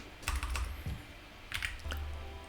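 Fingers type on a computer keyboard in a few quick bursts of close, clicky keystrokes, with short pauses between them.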